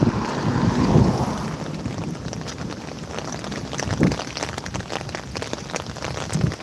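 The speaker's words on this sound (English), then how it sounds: "It's breezy." A breezy wind blows outdoors in the rain, buffeting the microphone with continuous rumbling gusts that swell near the start and again around the middle, over a soft rain hiss.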